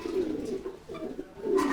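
Pigeon cooing nearby in soft, repeated low coos, with two fuller bursts at the start and end and a brief lull between them; no one speaks.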